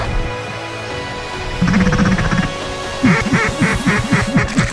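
Ducks quack loudly and close by, first in a short burst and then in a rapid series of harsh, repeated calls.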